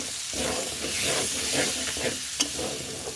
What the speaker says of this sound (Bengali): আলুটা একটু কষাই নেব।